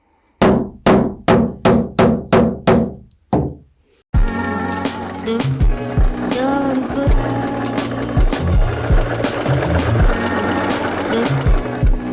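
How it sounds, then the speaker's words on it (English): Seven or eight sharp hammer taps on a small plastic tool in a quick, even series, loud and close, then a pause before busier clattering and knocking noise continues. "Now we're taking this little plastic tool and I need a hammer."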